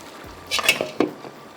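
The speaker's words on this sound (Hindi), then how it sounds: "बस आपने चम्मच ज़रूर चलाना है," A spoon stirs whole masoor (lentil) pulao rice in a pot as it starts to dry, giving a few soft scraping strokes with brief clinks against the pot, close and moderately loud, with no talk.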